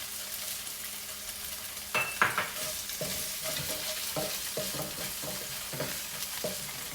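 Tofu and pad thai ingredients stirred together in a hot pan, with a soft continuous sizzle broken by a series of spatula scrapes and taps, close but fairly quiet, no speech.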